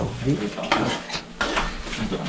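Food frying and being stirred in a pan in a kitchen, with close scraping and clattering strokes over a steady sizzle, loud and busy, with a few people talking faintly in the background.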